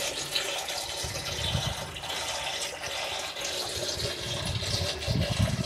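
Water runs and splashes steadily while potted plant seedlings are rinsed, a close, continuous gushing with a few heavier surges and low bumps, and no talk.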